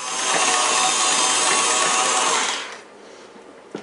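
An electric mixer whirs loudly and steadily while beating stiff buttercream icing for about two and a half seconds, then shuts off, leaving a quieter background with a faint clunk at the end.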